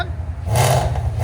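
A 2016 Ford Mustang GT 5.0L V8 with headers and a Valvetronic exhaust gives a short, loud, raspy rev from a lumpy idle, roaring close by for under a second before easing back.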